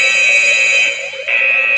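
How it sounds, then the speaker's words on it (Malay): A fire alarm sounds with a loud, steady electronic tone, pulsing in a regular repeating rhythm and dipping briefly before resuming, close and alone with no voices. "Maka apabila kebakaran berlaku, penggera kebakaran akan berbunyi."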